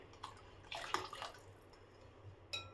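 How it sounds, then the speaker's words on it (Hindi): Water poured from a cup into a pan of drumstick kadhi (Indian yogurt curry), a brief soft splash and trickle heard up close in a quiet kitchen, with a second short pour near the end. "1 कप में पानी डाली थी, ये दूसरा कप और आधा कप और डाल रही हूँ।"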